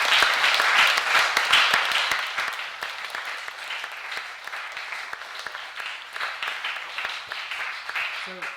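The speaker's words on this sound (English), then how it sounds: "Let's give them a round of applause" Church congregation at an intergenerational service applauds, a dense wash of clapping that starts strong and gradually thins and softens over several seconds, with no talking over it.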